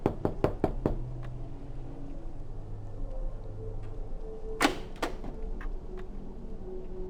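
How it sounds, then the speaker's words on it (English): Several sharp knocks at a door in the horror adventure game Necronomicon: The Dawning of Darkness, a quick cluster at the start, then a couple of louder raps later over a low ambient hum. "Our blissful slumber is interrupted by a knock at the door."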